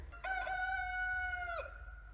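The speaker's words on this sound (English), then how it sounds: "And the chickens don't care that it's cruddy out." A single loud rooster crow carries across a Maine homestead on a gloomy day. The drawn-out call rises and then drops off over a soft outdoor background, with no voices.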